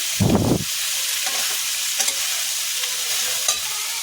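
Half a kilo of washed, chopped okra is stirred in a hot pan: a loud tossing clatter at the start, then a continuous close sizzle with occasional scrapes and pops, no talking.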